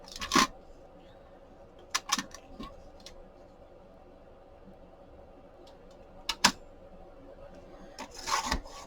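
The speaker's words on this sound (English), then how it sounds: "So let me cut this down real quick." A paper trimmer or blade cuts paper down to size for an envelope pocket journal, giving intermittent scraping and slicing sounds with light taps and clicks between them. The sounds are close and quiet, and no one speaks.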